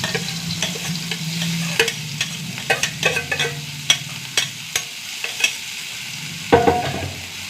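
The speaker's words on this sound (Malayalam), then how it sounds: "സവാള ഒന്ന് വഴണ്ട് വരട്ടെ" Finely chopped onion with green chillies and curry leaves sautés in coconut oil, a low sizzle under a string of sharp spoon scrapes and taps against the pan, close and uneven in rhythm.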